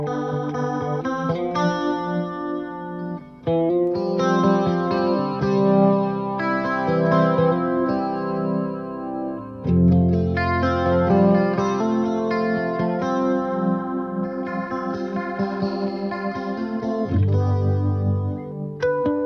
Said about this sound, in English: I wanted to change to the Strat to give you an idea of how it would sound on this guitar. It sounds a little cleaner and a little sparklier